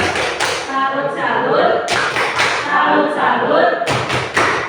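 A group of teachers and parents performs the tepuk salut, a patterned rhythmic clapping chant, at a school gathering; bursts of loud, close, fairly dense clapping recur in several sections, with voices mixed in.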